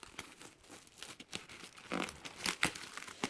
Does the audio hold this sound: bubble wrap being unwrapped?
yes